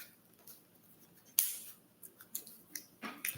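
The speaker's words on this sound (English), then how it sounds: "Shuffle this hand back into our deck" Pokemon trading cards are shuffled back into a deck, giving a quick series of crisp snapping riffles and soft card slaps, close and fairly quiet with no talking.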